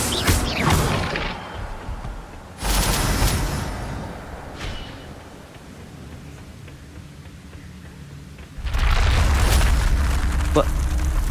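Spell blasts in the Hogwarts Legacy video game, loud booming bursts with long rumbling tails, several explosions in a row over dense game sound, with shouted voices in between.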